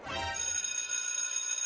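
A phone rings with an incoming call, a loud electronic bell-like ring sounding steadily and close up through the short moment, with no talking over it.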